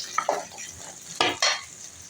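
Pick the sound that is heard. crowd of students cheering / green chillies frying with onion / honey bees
green chillies frying with onion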